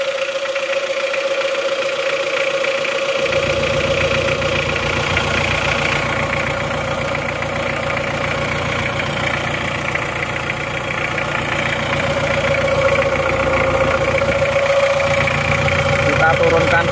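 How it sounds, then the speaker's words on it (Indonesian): A diesel engine on a horse-cart style utility vehicle idles steadily and close by, a loud continuous rumble with a tonal hum throughout, while someone talks over it; the engine has a knocking fault and burns oil. "Kita turunkan dulu RPM mesinnya."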